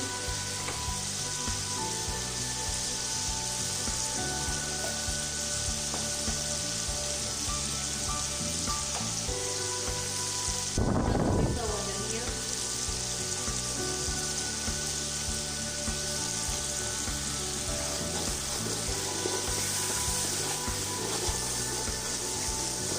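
Spices with red chilli and turmeric sizzle steadily in hot oil for aloo pulao, a dense continuous crackle with a brief louder burst of stirring midway, no voices.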